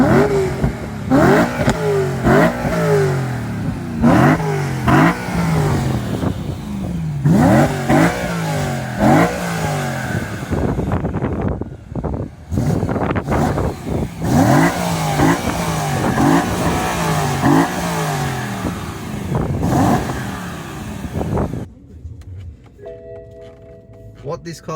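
A BMW M3 E90 engine cranks and fires, then revs repeatedly in sharp bursts that rise and fall, loud and close, before cutting to quiet near the end.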